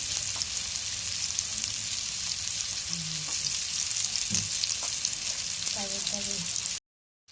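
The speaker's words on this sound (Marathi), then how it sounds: "अशी मस्तपैकी तळून घ्यायची मच्छी" Halibut fish fries in oil with a dense, steady sizzle and crackle, close and loud, with a few soft knocks near the end before it cuts to silence.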